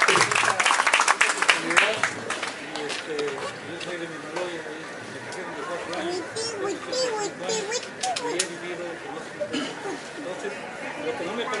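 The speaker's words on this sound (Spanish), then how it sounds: "Por favor, un aplauso." Applause from an audience at a conference by a river, brief clapping at the start that quickly fades under a loud crowd of chatter and overlapping voices that continue throughout.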